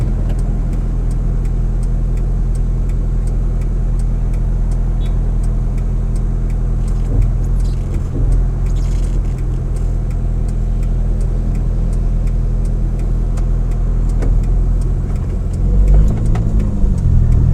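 A car drives along a rural road in St. Elizabeth, Jamaica, its steady low engine rumble and road noise continuing throughout, with a slight swell of revving near the end as it makes a right turn.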